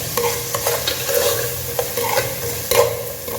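Tomatoes and whole spices such as cloves and cardamom frying in a pan for mutton dum biryani, with a continuous sizzle under brisk scraping strokes and knocks of a ladle stirring.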